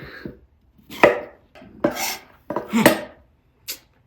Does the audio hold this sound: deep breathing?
no